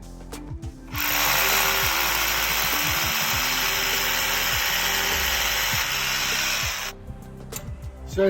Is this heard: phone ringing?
no